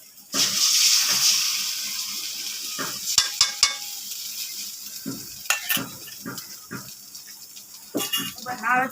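Noodles with egg stirred in a frying pan, giving close intermittent scraping and clattering strokes with sharp utensil clicks over a faint sizzle, and speech is heard in places.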